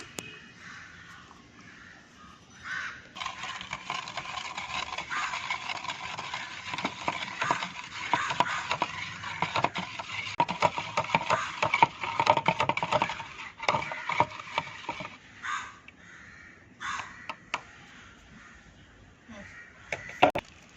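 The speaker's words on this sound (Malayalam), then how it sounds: "നമുക്ക് നന്നായിട്ട് ഇളക്കണം" Homemade dish wash liquid mixture being stirred by hand in half a litre of water, giving a steady run of close scraping and clicking for about twenty seconds, heavier in the middle and sparser toward the end.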